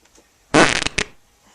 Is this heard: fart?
yes